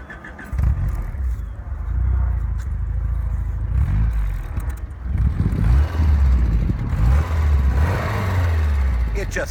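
A 1991 Alfa Romeo Spider Veloce engine idles and revs while the car sits still, a steady low rumble swelling with throttle blips, loud and close.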